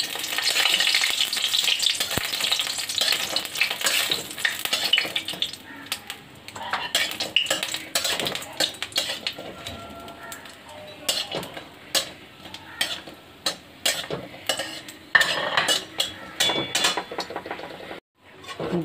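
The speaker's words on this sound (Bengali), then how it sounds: "তেলটা আমার গরম হয়েছে, এখন এখন আমি এই বিউলির ডালের চার পাঁচটা বড়ি আছে এটা ভেজে নেব।" Sun-dried urad dal bori fry in hot oil in a home kitchen, a crackling sizzle broken by the clatter of a utensil stirring against the pan. The frying fades in and out, with a few sharp knocks near the end.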